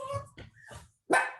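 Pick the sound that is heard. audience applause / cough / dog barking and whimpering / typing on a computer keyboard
dog barking and whimpering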